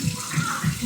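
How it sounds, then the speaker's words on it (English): Running tap water splashes steadily, with a few soft rhythmic surges as hands move under the stream, close and fairly loud. "I'm gonna wash my hands."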